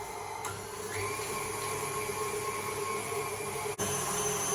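An electric mixing machine creams cake mixture for an apple and cinnamon cake, giving a steady, continuous whirring motor drone with a high whine, heard close and alone.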